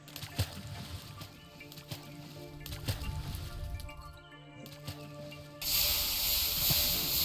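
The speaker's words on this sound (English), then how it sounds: "You can hear the sizzle." Hot items hissing as they are thrown into water in Minecraft with the TerraFirmaGreg modpack, quiet hisses and sizzles among soft game sounds, ending in a louder, sustained steamy hiss.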